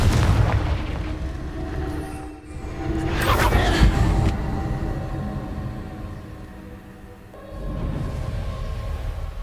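Explosive spell blasts from the Hogwarts Legacy video game, a booming burst with a bright rumbling crack around three seconds in, over continuous battle ambience and rumble, with a second heavy swell near the end.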